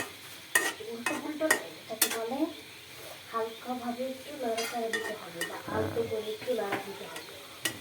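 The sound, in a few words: stirring tomato chutney frying in a pan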